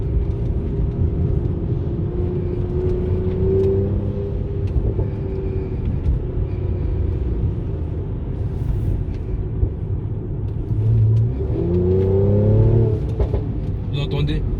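A Mercedes C450 AMG engine rumbles low and steady from inside the car, swelling briefly as it revs, while someone talks over it throughout.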